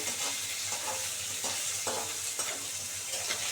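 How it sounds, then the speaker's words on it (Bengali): Fish crisps in hot oil in a pan, a steady close sizzle with soft bubbling and a few stirring scrapes, no voices. "আমরা এই মাছ ভালো করে একদম সুন্দর করে কড়া করে ভেজে নিচ্ছি"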